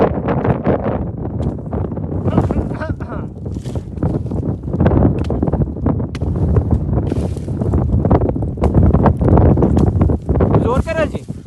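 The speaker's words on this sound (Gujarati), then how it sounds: "વાવાઝોડું આવે છે" Strong wind gusting across a farm, buffeting the microphone in a loud, continuous roar with rumbling surges throughout, and a voice speaking faintly underneath.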